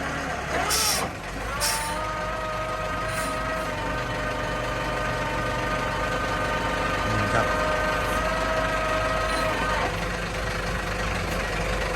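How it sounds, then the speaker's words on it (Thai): XCMG LW186FV wheel loader engine running steadily and near, with a constant drone that holds through the whole stretch and a few brief sharp hiss-like bursts early on. "ที่เลือกรถตักล้อยางของ XCMG รุ่น LW186FV นะครับ"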